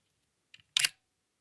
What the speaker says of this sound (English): if you go for the shorter shutter speeds, let's go for a 25th of a second, for example, that one